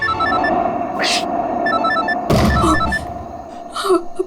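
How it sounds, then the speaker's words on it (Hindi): A phone ringtone repeats in short melodic bursts through a tense crime-drama scene, running steadily under background music and gasps, with brief louder hits and rustles. "आयशा को फोन कर"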